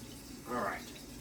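Hot water from a kitchen tap runs briefly while draining grease from taco meat, a soft half-second rush of flow that swells and fades.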